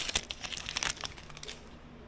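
Wrappers of 2023 Bowman Blaster trading card packs ripped open close up, a quick run of sharp crinkling tears and foil rustles over about two seconds with no talking.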